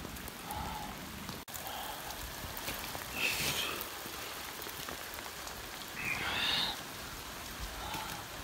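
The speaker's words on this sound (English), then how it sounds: "It's raining." Steady cold rain falls outdoors near a bridge, a dense, even wash of drops hitting surfaces that continues throughout, with a couple of brief louder swells on top.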